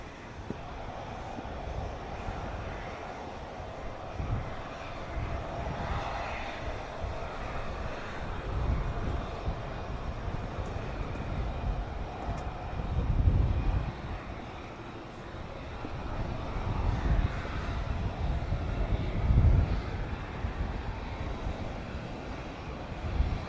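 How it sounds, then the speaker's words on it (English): Airbus A330 multi-role tanker transport arriving at the Royal International Air Tattoo air show, a steady broad jet roar that swells and fades as it passes, sustained throughout with no talk. "one of several A330 multi-role tanker transports that we will be seeing"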